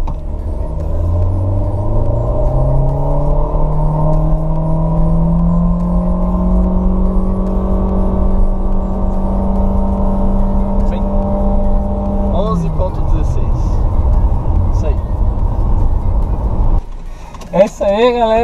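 A 2018 Honda Fit 1.5 with CVT accelerates in Sport mode, its engine drone rising steadily in pitch for several seconds before easing off, heard from inside the cabin with a brief voice at the end.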